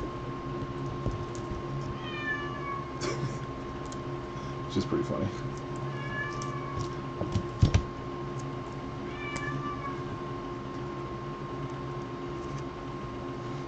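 A cat afraid of a storm mews several times in thin, rising-then-falling cries spread across the stretch, over a steady electrical hum, with a person speaking briefly near the end.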